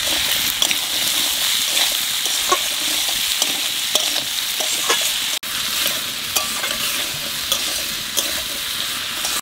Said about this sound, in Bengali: একটু ভাজে নিচ্ছি, এখানে আলু দিয়ে দেবো।